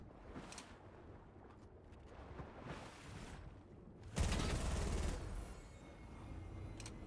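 Gunfire cracks in Fortnite, a few scattered shots early then a louder sustained burst around the middle, faint background noise otherwise.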